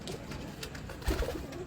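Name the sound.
pigeon cooing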